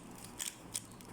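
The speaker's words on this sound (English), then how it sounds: "let's shuffle first our 5 cubes" A 3x3 Rubik's cube is turned while scrambling, giving two quick plastic clicks and snaps close by, faint against a quiet room with no talking.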